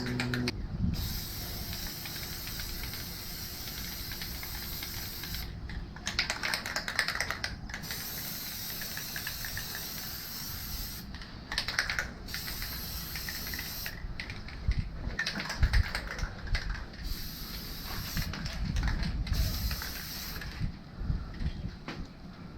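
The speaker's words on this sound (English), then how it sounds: "Gonna spray back and forth kind of evenly." A steady hissing spray of Plasti Dip from an aerosol can runs almost continuously, with several brief pauses between passes, close and fairly loud.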